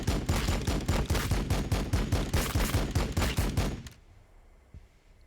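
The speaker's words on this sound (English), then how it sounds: "Firing on the enemy." Rapid, loud gunfire in the strategy game Warhammer 40,000: Battlesector fires as a dense volley of rhythmic shots for about four seconds, then cuts off to quiet with one faint thud.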